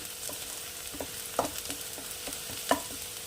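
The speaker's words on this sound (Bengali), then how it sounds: "অল্প তেলে আমি একদম পেঁয়াজটাকে ভেজে নিয়েছি" Onions frying in a little mustard oil in a wok, a soft steady sizzle with occasional light stirring taps and clinks of a spoon, close and fairly quiet.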